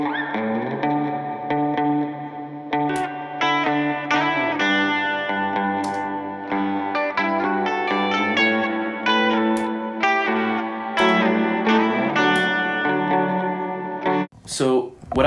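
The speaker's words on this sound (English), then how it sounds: "I'm going to play the original guitars, which were tracked with a DI, and then just use an amp simulator in Logic" Electric guitars tracked through a DI and run through an amp simulator in Logic play a steady chord-based part with distortion, chorus and reverb, loud and continuous, ending in a brief noisy flourish.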